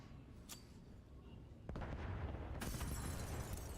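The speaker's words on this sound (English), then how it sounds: "letting the entire map explode around them as the Michael Bay film continues" Explosions rip through a Call of Duty League match between OpTic Texas and Miami Heretics in a video game, with several sharp blasts landing over a dense, rumbling din of gunfire and effects that grows louder partway through.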